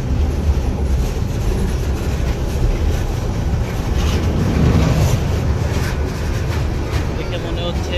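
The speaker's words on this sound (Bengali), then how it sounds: "লালমনি এক্সপ্রেস এখন যমুনা সেতুর উপরে" Lalmoni Express passenger train crossing the Jamuna bridge, a steady loud rumble of wheels and carriages running continuously throughout, with wind noise and faint voices mixed in.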